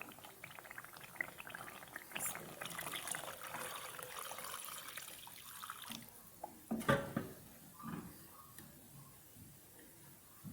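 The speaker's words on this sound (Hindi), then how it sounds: "तो अब हम इसमें डाल देंगे 2 कप पानी।" Two cups of water are poured into a pan of egg and potato gravy, with a faint trickle and splashing followed by a few louder clanks and stirring sounds nearby.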